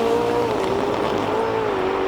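A V8 race car engine roars steadily at high revs at a hillclimb event, a loud sustained drone with a slight rise and fall in pitch.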